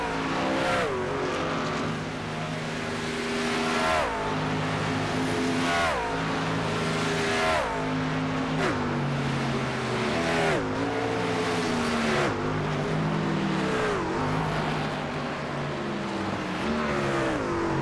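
Race trucks in a Hammer Down Truck Series racing game at Daytona Beach, engines roaring loudly and repeatedly rising and falling in pitch as the pack laps the track.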